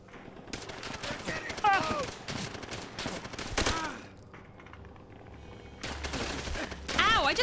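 Scattered gunfire in Call of Duty: World at War, sharp shots and short volleys mixed with excited voices talking and shouting over the battle noise.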